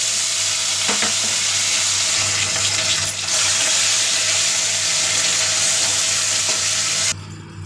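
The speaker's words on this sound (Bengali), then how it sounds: "মশলাটা কষিয়ে নেব।" Ground coriander, cumin and ginger paste sautés in hot oil with whole garam masala, dry chillies and bay leaf, a loud continuous sizzle with brief stirring clatters before it cuts off abruptly near the end.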